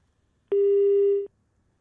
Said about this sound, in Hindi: अरुण गोविल जी का फोन लाइन डिस्कनेक्ट हुआ है।